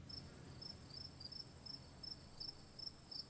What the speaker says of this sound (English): As crickets chirp.